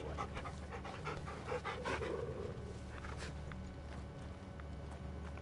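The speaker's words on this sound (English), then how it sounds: "Had to pet my dog." A dog in a video game (Final Fantasy XVI) pants steadily and rhythmically up close while being petted, with light shuffling and patting sounds around it.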